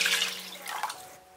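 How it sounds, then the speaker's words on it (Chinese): Water is poured into a pot of duck gizzards, galangal and coriander root set up for braising, making a short, close splash and trickle that fades within a second or two. "加入适量清水"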